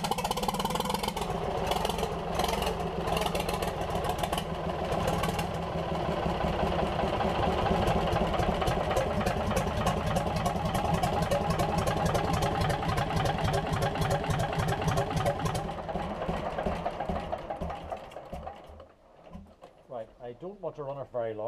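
A Gardner 3LW diesel engine, run without an exhaust or coolant, starts and idles loudly and steadily for most of the clip, its rhythmic chug thinning out toward the end.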